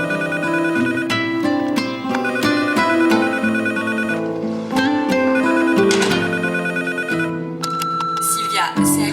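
A telephone rings with a melodic ringtone over steady background music, loud and continuous for several seconds while voices talk.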